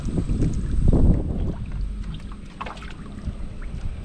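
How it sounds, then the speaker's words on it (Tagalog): A boat engine drones low and steady on open water, with wind buffeting the microphone and a louder rumble near the start before it settles. "Papaand lang ng makina."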